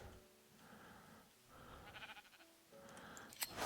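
Blocky sheep in a hardcore survival Minecraft world give a few short bleats, spaced apart over soft game ambience, moderately close and not loud.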